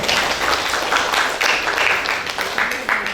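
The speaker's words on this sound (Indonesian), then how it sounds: "Oke, tepuk tangan buat Pak Diki." A class applauds a participant in a lesson on positive school culture, fairly close and loud, with scattered overlapping claps and some voices mixed in.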